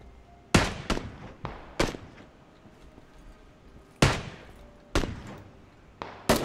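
Rifle fire in PlayerUnknown's Battlegrounds: a series of sharp, loud cracks, some single and some in quick pairs, spaced irregularly over several seconds with a faint background between them.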